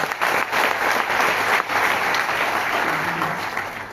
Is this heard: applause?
yes